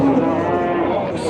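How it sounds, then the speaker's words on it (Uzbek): A cow moos once, a long, steady, close low call at a livestock market. "Ona bola sigirimiz ham ketdi mana shu yerga."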